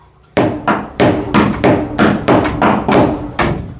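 A hammer drives nails while installing a door or window frame, about a dozen loud, sharp, close blows in an uneven but steady rhythm, with no talking.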